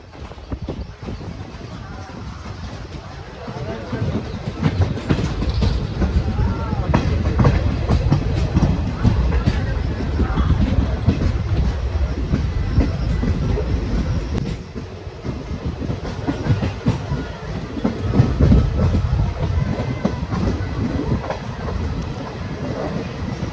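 A Shoranur–Coimbatore passenger train pulls out of Lakkidi station and gathers speed, its wheels clattering over rail joints in a quickening rhythm beneath a loud, rumbling roar.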